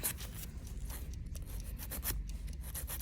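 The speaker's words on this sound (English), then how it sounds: "I'm just filing it in one direction and getting all that jelly substance where it's peeling off." A nail file drawn across a fingernail in one direction, clearing peeling gel residue during a nail tech exam, a steady close scratchy rasp repeating in quick short strokes without pause for about three seconds.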